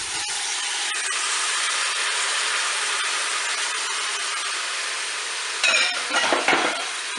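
Carrots and mushrooms are added to a Cookeo pot and stirred, giving a steady hiss of frying with scraping of a utensil against the pot, then a few louder clatters near the end.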